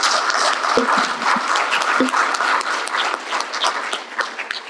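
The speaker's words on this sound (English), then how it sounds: "Could you please give them all a round of applause?" Seated audience at a tourism conference session in Fiji applauding, a steady wash of many hands clapping that gradually thins toward the end, with a few low thumps.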